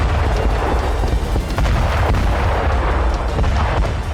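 Explosions from Russian bombers striking Ukrainian weapons depots in Toretsk, Donetsk: a loud, sustained barrage of deep booms and blasts merging into a constant heavy rumble with sharp cracks.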